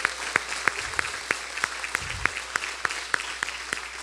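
Church congregation clapping in rhythm, sharp regular claps roughly three per second over a soft background hum, with a couple of low thumps between.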